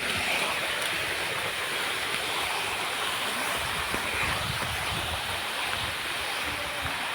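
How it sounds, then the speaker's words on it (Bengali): Waterfall roaring as a dense, continuous broadband rush of falling water, loud and steady without pause. "ঝর্ণা ঝর্ণা"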